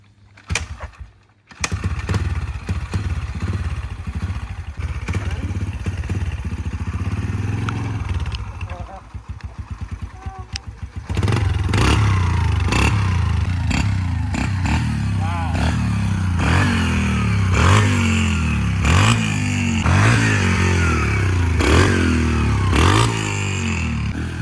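A dirt bike fitted with an oversized rear sprocket revs in first gear, its engine buzzing and climbing in repeated throttle bursts that grow louder and rougher in the second half, close by.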